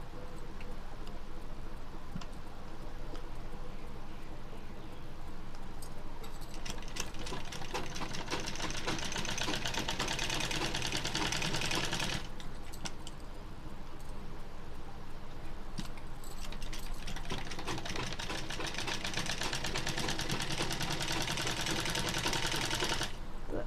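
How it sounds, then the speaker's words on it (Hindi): An electric sewing machine stitches fabric in two long bursts of rapid, steady clatter separated by a brief pause, with a quieter hum between runs. "और अब हमने इस पे प्रॉपर पूरे पे सिलाई लगानी है।"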